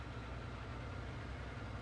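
Tractor engine idling in the Farming Simulator 19 video game, a steady, even low rumble that holds unchanged and quiet throughout, with no one talking.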